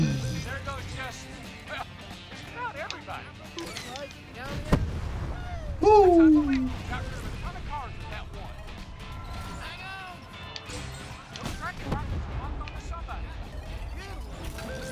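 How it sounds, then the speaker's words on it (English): Explosions and crashes go off during a Cars 3: Driven to Win race on Xbox One: several sharp booms and impacts over busy engine and game sounds, with a louder burst near the middle. "So much explosions."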